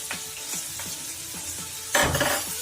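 Ginger garlic paste sizzling as it hits frying vegetables, with rhythmic stirring scrapes, then a sudden louder burst of hissing sizzle.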